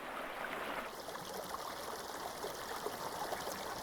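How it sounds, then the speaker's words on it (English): A spring stream with plenty of water flows over pebbles and plants, a steady close trickling and babbling wash with no voices. "The stream has plenty of water in the spring, the time when most aquatic insects decide to reproduce."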